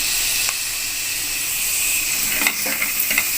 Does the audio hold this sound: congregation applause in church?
no